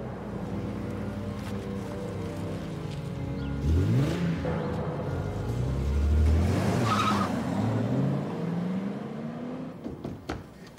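A red sports car speeds off with skidding tires: an engine roars and climbs in pitch, then tires screech sharply mid-way before the car pulls away, loud and close, with no talk.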